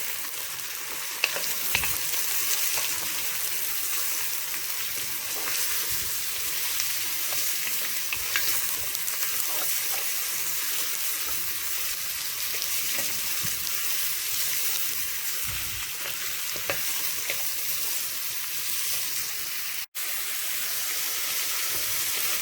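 Turkey wings and carrots sweat in a cooking pot with a steady, close sizzle and frequent stirring scrapes for the whole stretch, broken by one very brief dropout near the end, with no voices.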